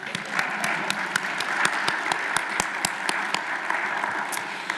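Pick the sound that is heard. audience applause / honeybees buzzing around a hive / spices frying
audience applause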